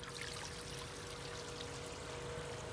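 Water flows into a garden pond as its level is raised, a steady, soft trickling and rushing stream that runs evenly without pause and with no voices.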